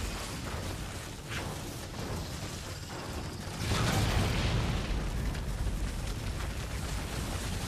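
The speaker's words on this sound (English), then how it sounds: "That was an in-game explosion." Game explosion from the shooter Turok: a loud, dense burst swells partway through and holds as a long rumbling roar over steady broadband game noise, with no talking.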